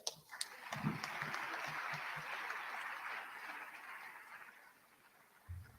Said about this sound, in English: So let's clap hands for that.